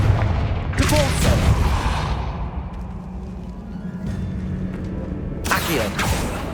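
Confringo fire spell blasts in Hogwarts Legacy: two loud booming impacts, one early and one near the end, with a rumbling tail between them and low battle ambience.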